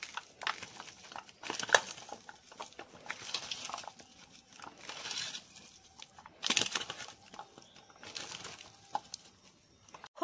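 Vegetables for a dried fish curry are mixed by hand with spices and mustard oil in a bowl, giving soft, irregular squelching and crinkly rubbing bursts, close and fairly quiet.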